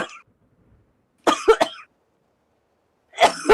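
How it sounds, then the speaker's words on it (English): Three separate bursts of coughing from one person, close to the microphone and fairly loud, split by long silent gaps; the middle burst has several quick coughs in a row. "Every time I cough, my camera shakes."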